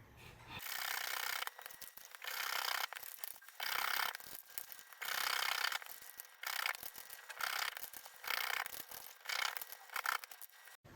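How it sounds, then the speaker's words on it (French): Small hand saw cutting through a piece of wood clamped in a small vise, heard as steady rasping strokes in repeated bursts with short pauses between them, close and fairly loud. "Avec une petite scie et un petit étau, on va venir scier sur le trait de découpe en faisant tourner le morceau de bois"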